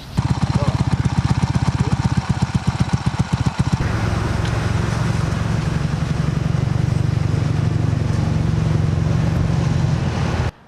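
A motorcycle rides along while touring Ukraine with a dog aboard: a rapid, pulsing engine note for the first few seconds, then a steadier, louder roar mixed with rushing wind noise until it cuts off at the end.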